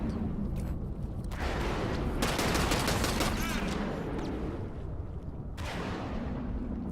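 Shotgun fire in the video game Evolve, with dense, loud overlapping blasts and crackling bursts in a chaotic firefight with no pause.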